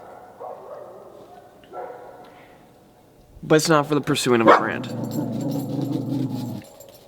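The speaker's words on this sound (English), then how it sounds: "I have no idea how loud the dog is." A pet dog barks and whines indoors in a short burst of sharp yips and whimpers, loud and close, while a person talks over and around it.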